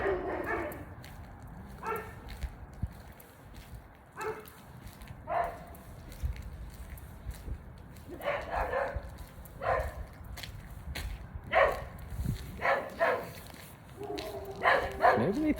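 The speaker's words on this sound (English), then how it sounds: "Too many damn dogs are out here." Several dogs bark and yip outdoors during a walk on New Year's Eve, with scattered barks of varying distance repeating through the whole stretch over low background noise and footsteps.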